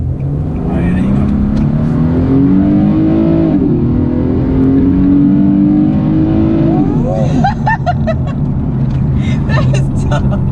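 A Nissan 370Z NISMO engine revs and accelerates loudly nearby, the pitch climbing, dipping and climbing again, while a person exclaims over it throughout.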